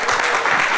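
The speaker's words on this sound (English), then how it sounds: "Any applause is good." A short, dense burst of audience applause at an improv comedy show, loud and continuous for under a second.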